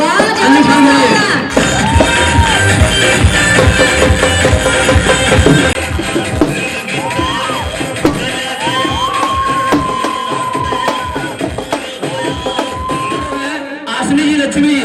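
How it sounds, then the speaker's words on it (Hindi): Audience at an award ceremony on stage cheering loudly, a dense crowd roar with whoops, shouts and some clapping, continuous throughout, and a voice over a microphone heard faintly above the noise. "मैं चाहूंगा शानदार ताली देंगे अंजुम खान के लिए"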